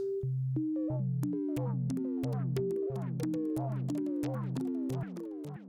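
Bright synthesized tones made with Ableton's Roar effect repeat in a quick stepping pattern, each note sliding with a shimmering, airy tail, played continuously with no voices.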